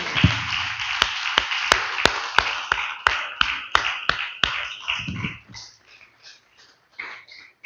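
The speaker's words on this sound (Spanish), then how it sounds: "Un fuerte aplauso a Cristo." Church congregation applause during a sermon, a series of sharp, distinct claps over a broad wash of crowd clapping and voices that thins out toward the end.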